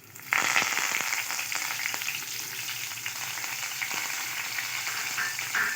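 Curry leaves drop into hot oil with asafoetida and burst into a loud, crackling sizzle that starts abruptly and keeps spitting and popping steadily, close and without talk.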